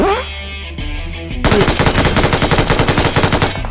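An electromagnetic gun fires in PUBG Mobile, loud and close, as a rapid, evenly pulsing burst of about two seconds that follows a brief rising electronic charge-up tone.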